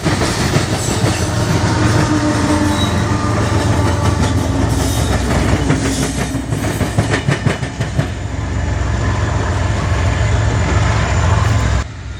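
A long freight train with GE and EMD helper locomotives rolls past up close in Texas, a steady, loud roar of engines and rumbling wheels with rhythmic clickety-clack throughout.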